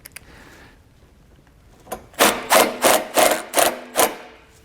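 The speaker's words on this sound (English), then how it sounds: "the screws that come included with your base plate just line right up, 8mm socket. We'll run these right in." Screws are run in with an 8mm socket to mount a Roadmaster LED tail light base plate, giving six loud, evenly spaced grinding bursts after a few faint clicks.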